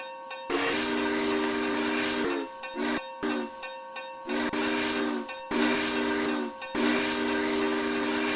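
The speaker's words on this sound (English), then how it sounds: "looks like we're gonna be sounding the whistle first." Union Pacific Challenger steam locomotive whistle in a RO-Scale Rails video game, blown in a series of loud long and short blasts amid steady steam hiss.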